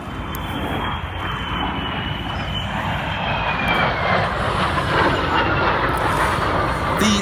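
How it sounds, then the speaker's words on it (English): A Jet Provost T5 and two Vampire jets fly past in a three-ship formation at the Duxford airshow, a loud steady jet roar that swells slightly as they pass. "So here they come in from the left, a very nice three-ship formation, the Jet Provost T5 and the two Vampires."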